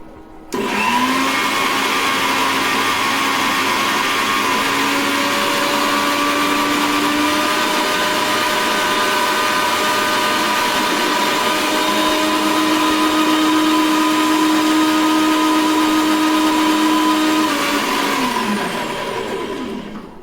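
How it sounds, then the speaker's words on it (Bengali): Mixer grinder blending spinach into a paste, a loud continuous motor whine with steady droning tones that winds up at the start and winds down at the end, running alone for about twenty seconds. "এই পালংটাকে এবার আমাদের পেস্ট করা হবে, সেই কারণে আমরা মিক্সিতে অলরেডি এটাকে সেট করছি"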